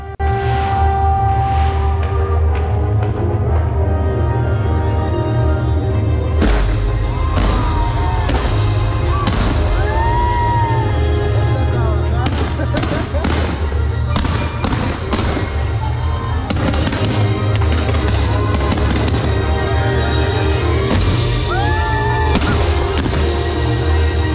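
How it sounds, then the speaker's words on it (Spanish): Fireworks display at the Guadalajara light festival, with a loud, continuous barrage of booms and crackling bursts over music, lasting throughout. "llegaron los fuegos artificiales"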